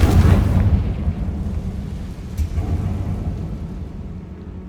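A Confringo fire spell in Hogwarts Legacy sets off a deep, booming explosion that hits hard at once and fades into a low rolling rumble, with no speech.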